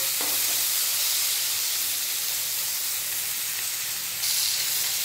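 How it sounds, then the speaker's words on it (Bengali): Eggplant and ridge gourd pieces sizzling in hot oil with salt and turmeric, a constant close crackling hiss with a slight bump near the end as the pan is stirred, no speech. "বেগুন আর ঝিঙে ভাজা হয়ে গেছে, এরপর তুলে নেব।"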